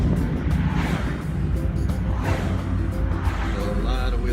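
A 2016 Ford Mustang GT Convertible accelerates hard from a standstill, its engine holding a loud, steady roar with some wind and road rumble.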